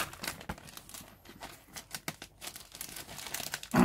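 A resealable plastic bag holding aircraft decal sheets crinkles and rustles under close handling, soft, irregular crackles and taps throughout, with a louder rustle at the end.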